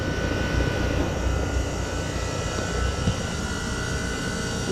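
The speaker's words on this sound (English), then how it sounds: "here we have a Trane XB13 heat pump running" A 2010 Trane XB13 2.5-ton heat pump in cool mode runs outdoors, its fan motor and reciprocating compressor making a steady, loud broadband whoosh with a low rumble and no pauses.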